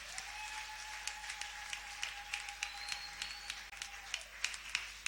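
Church congregation at a Sunday thanksgiving service applauding, a room full of scattered hand claps at moderate distance, steady over several seconds, with a sustained electronic tone underneath.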